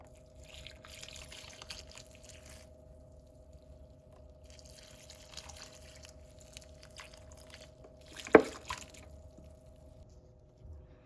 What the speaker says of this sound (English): We've just had a whole bunch of rain, so I did collect some rainwater, and that's what I'm going to water her with.